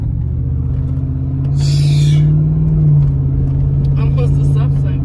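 A pickup truck on new tires rolls along with a steady low engine drone and road rumble from inside the cab, swelling briefly midway, while a person talks over it.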